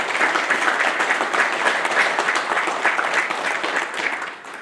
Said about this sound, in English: Families, please join me in a round of applause of the Navy's newest third-class petty officers.